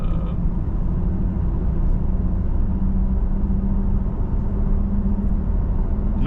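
Toyota Tacoma pickup with a manual gearbox pulling in third gear, a steady low engine drone and rumble that holds level throughout with no clear shifts, heard from inside the cab.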